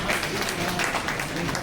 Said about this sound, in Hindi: बहुत मंद स्वर में तालियां बज रही हैं।